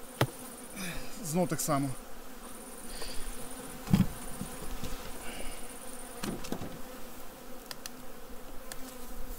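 Bees buzz steadily around a beehive near heather fields, a constant near droning hum with individual insects passing close by, while a person speaks briefly in the background.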